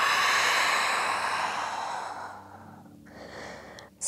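A long, slow exhale released during a gentle morning yoga flow, breathy and close, fading gradually over a few seconds before a brief soft sound at the end.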